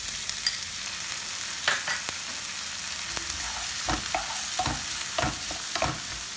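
A spoon stirs corn with soy sauce and Schezwan chutney in a sizzling pan, soft frying hiss under repeated scraping and clinking strokes, close and fairly quiet, no talking.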